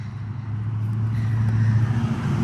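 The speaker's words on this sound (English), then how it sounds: "the trucks are so loud" Heavy trucks roll past on a busy road beside a front yard garden in early May, a loud, continuous low rumble that swells slightly as vehicles pass.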